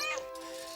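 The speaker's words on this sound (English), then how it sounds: "Blasted cat." A house cat gives one drawn-out, close meow that slides downward and fades, heard alone without talk.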